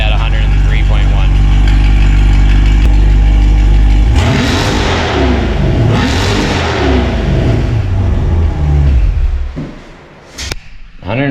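A C8 Corvette fitted with 2m Fabrications high flow catalytic converters idles with a deep rumble, then revs up hard and loud with a raspy, rising roar that falls away near the end.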